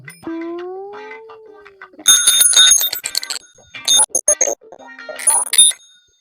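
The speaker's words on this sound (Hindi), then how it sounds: "घंटी मारा तो सुनात नहीं ना।" Bicycle bell in a village, rung in several quick bursts of bright metallic trills, close and loud, between brief vocal sounds.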